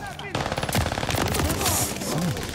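Rapid gunfire bursts in an online shooter video game, loud and near, with a quick fusillade of shots rattling over the game's background action while players talk over it.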